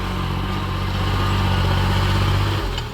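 A fifteen-year-old Kubota L3008 six-wheel tractor engine runs steadily at close range, a continuous low mechanical drone with a slight dip near the end.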